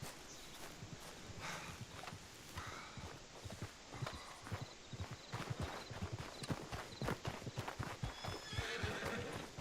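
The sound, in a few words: horse neighing in a video game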